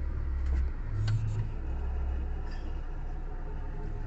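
Car engine idles steadily with the clutch pedal held down. The transmission is hard to shift after a clutch lever adaptor was fitted. The low, even engine hum runs throughout with no talk.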